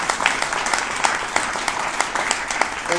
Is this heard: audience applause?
yes